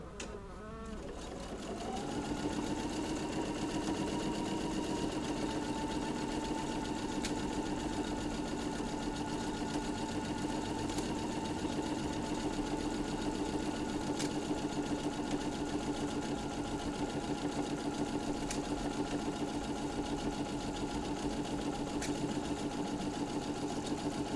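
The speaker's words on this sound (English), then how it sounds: "I like to sew where the needle stops in the down position" A domestic sewing machine stitching fabric pieces sewn right sides together starts up and then runs in one long, steady, even whir at constant speed, close and moderately loud, with no talking over it.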